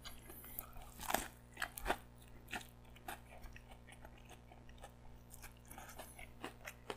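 Close, quiet crunching as a crispy Shake Shack black truffle burger is bitten, followed by softer chewing sounds, with a couple of sharper crunches early on.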